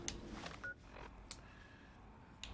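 Telephone keypad tones from dialing a phone in the video game Fallout: New Vegas, a few short beeps spaced over a couple of seconds, quiet and without talk.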